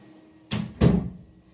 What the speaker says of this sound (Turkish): kapıyı kapatıp geliyorum